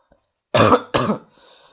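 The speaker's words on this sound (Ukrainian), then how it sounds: "Я вибачаюсь, трохи захворів, тут буду кашляти." Two quick, close coughs, back to back, loud and harsh, followed by quiet.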